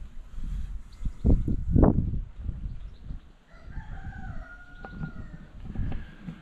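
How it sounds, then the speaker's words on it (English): A rooster crows outdoors at moderate distance at a pub, a rising drawn-out call over low ambient noise and faint rustling. "It comes with a resident cockerel."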